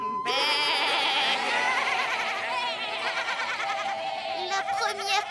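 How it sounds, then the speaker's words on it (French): Several cartoon goats in an animated show bleat loudly and continuously, their wavering cries overlapping in a busy chorus close by. "La première qui arrête de bêler."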